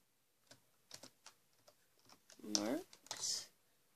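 Quiet, sparse key taps on a computer keyboard, a handful of separate clicks followed by a brief louder vocal sound near the end.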